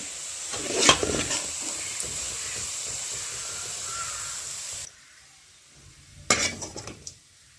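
Fried ginger being stirred and scooped from a pan after the heat is switched off, with a clattering scrape early on, a faint sizzle, a brief pause, then a louder burst of metal scraping.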